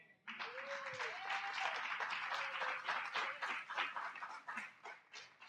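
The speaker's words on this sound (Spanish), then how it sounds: "Yo le daría un aplauso al Señor." A church congregation applauds during a Spanish-language sermon, a dense wash of clapping that starts abruptly and holds steady, with some voices and a whistle-like call rising above it.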